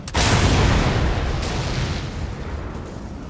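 A loud explosion in the Mad Max video game: a sudden booming blast that rolls into a long rumbling, crackling decay over a few seconds, heard alone without talk.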